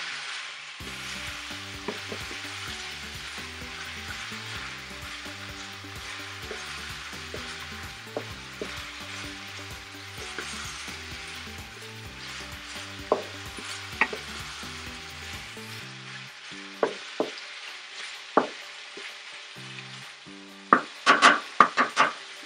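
Beef liver and potatoes sizzle steadily in a pan while a utensil stirs and scrapes them, with rhythmic clicking from the stirring and a few sharper knocks toward the end; no one speaks.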